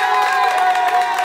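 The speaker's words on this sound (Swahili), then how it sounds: "Atafadhali makofi jamani kwa shule, makofi kwa shule." A school crowd cheers and claps together, a dense, loud burst of cheering, applause and children's shouts that runs continuously, close and unbroken.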